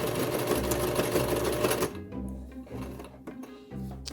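A sewing machine runs briefly in a quick, close burst while back stitching a fabric bat wrap, then slows to a few short, spaced stitch runs with faint handling noises.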